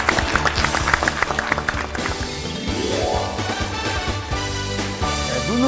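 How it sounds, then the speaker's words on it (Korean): Audience in a lecture hall greets a speaker with applause, a dense steady patter of many hands clapping throughout, loud and close with some thumps and shuffling. "박수로 맞이해 주시죠"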